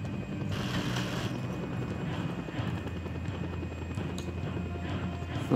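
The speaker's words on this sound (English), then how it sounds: "Hostile chopper." Helicopter in the video game Just Cause 2, its steady rotor and engine drone running loud and continuous throughout, with a brief louder burst at the very end.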